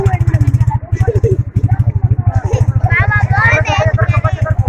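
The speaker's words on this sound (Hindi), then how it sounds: "अब ये जो है ना बाइक स्टार्ट हो गई" A motorcycle idles at a Pakistani Sindhi village wedding, a steady rapid thudding engine pulse running throughout, close and loud, under crowd chatter and a speaking voice.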